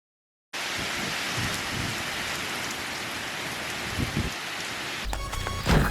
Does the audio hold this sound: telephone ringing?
no